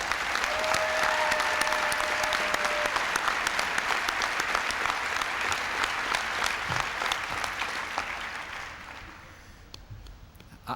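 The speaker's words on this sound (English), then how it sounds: "I hope they will all stand up now so we can give them applause" A large audience at an AmeriCorps fifth-anniversary ceremony applauds award recipients with sustained, dense clapping that holds steady and then fades out toward the end.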